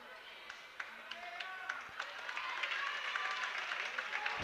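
A crowd at a Serie A2 Élite futsal match applauds an injured player, Cerantola, with scattered claps swelling into steadier clapping over several seconds, moderately near, with some crowd murmur.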